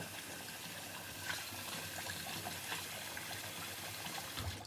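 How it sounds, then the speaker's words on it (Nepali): Cold water is poured for sushi rice in a faint, steady gush, soft and continuous with no voices. "हाल्छु, चिसो पानी"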